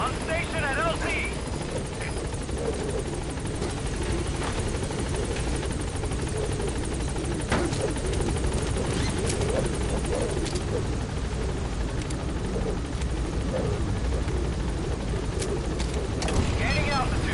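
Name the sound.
support helicopter at landing zone in video game Metal Gear Solid V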